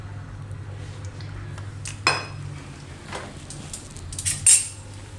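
A metal spoon clinks a few times against an appe pan while it is greased with oil, with sparse separate taps over a low steady hum in a quiet kitchen.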